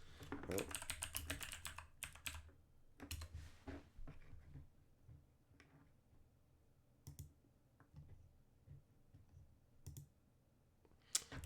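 Keys clatter on a computer keyboard as a name is typed, quick bursts of close clicking taps with pauses between, alongside occasional soft speech.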